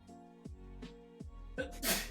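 A sneeze bursts out near the end, loud and close, after a stretch of quiet background sound and some soft vocal noise.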